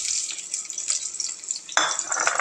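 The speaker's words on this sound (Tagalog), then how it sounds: "Then mix well." Ginataang monggo aromatics are stirred in a hot oiled pan, giving a bright hissing sizzle with a louder burst of frying partway through.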